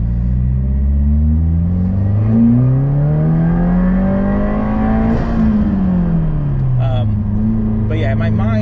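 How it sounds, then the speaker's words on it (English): A tuned 2022 Subaru WRX pulls hard through second gear, its engine note climbing steadily in pitch for several seconds before dropping back, loud and close from inside the car. "I'm gonna do a quick second gear pull."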